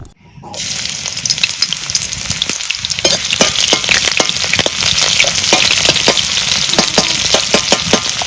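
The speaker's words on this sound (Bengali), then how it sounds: "কড়াই গরম হচ্ছে, এখন আমি সরষের তেল দিয়ে দিই" Mustard oil sizzling in a hot kadai over a village cooking fire, a loud continuous crackle and spatter that swells after a quiet start and holds steady, with no talking.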